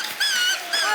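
A performer imitates a puppy with two high, thin yips or whimpers, one short and one a little later, close and clear against a quiet background.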